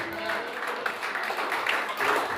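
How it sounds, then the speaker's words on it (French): A church congregation applauding in praise during a French-language service, a steady wash of clapping and cheering sustained throughout, with voices mixed in. "Est-ce qu'on peut donner au Seigneur une belle acclamation?"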